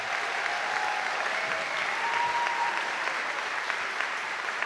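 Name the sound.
audience applause at graduation ceremony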